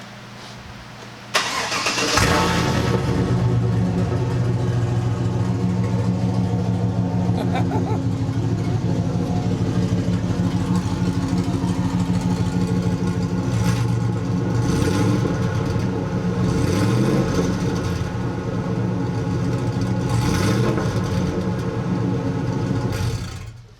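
A car engine cranks and fires after a short quiet moment, then settles into a loud, rough, deep idle with the exhaust cutouts open, with a few blips of revving later on.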